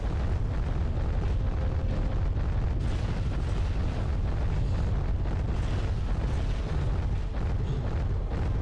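Turrets fire and explosions rumble in Giants: Citizen Kabuto, a dense, continuous roar of booms and blasts with no clear pauses, loud and low-heavy throughout.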